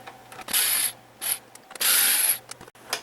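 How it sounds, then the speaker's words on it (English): A screwdriver backs T15 Torx screws out of the stand on a 2011 HP TouchSmart 610 all-in-one computer, giving several short ratcheting, clicking bursts that come close and fairly loud, with pauses between them and no talk. "as we take these last two screws out"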